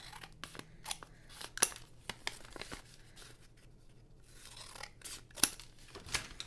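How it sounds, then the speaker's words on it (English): Scissors snip the ends off craft material for a sunflower and honey bee project, giving several separate crisp cuts, close and fairly quiet, with two sharper snips standing out among softer paper rustles. "to make my life a little bit simpler, I think I'll just cut the ends"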